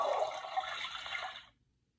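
A toilet flush from a children's sound book rushes steadily for about a second and a half, then stops abruptly.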